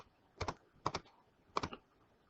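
Calculator buttons are pressed in three quick clusters of two or three crisp clicks each, close and quiet with short pauses between, no speech.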